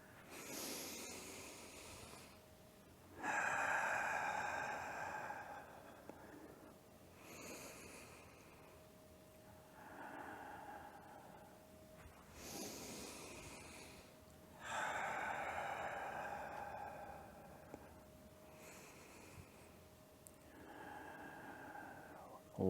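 Forceful rhythmic breathing during the metal form of a 5 Elements Flow exercise, long strong hissing exhales and inhales alternating with quieter pauses, close and alone with no talk.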